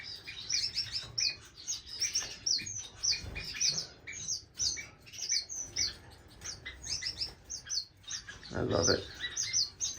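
Waxbills at a new nest in an indoor bird room chirp in quick, repeated high tweets, close and busy throughout, with a brief squawk near the end and a short spoken comment.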